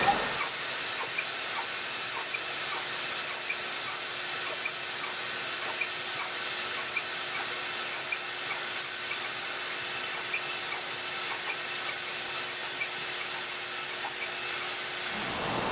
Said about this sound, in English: It's printing it on the way out and on the way back.